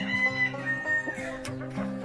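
Chickens clucking in a steady, busy stream of short calls, fairly close, with a few higher squawks rising over the flock.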